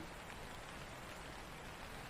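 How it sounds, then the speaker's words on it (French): Soft, steady patter of light rain, a continuous even hiss with scattered drops and no voices. "Quelques gouttes de pluie commencent à tomber."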